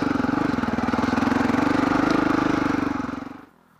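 Honda and KTM motorcycle engines on a snowy trail in Los Padres National Forest: a loud, steady close-up engine rumble with a fast pulsing beat that cuts off abruptly near the end.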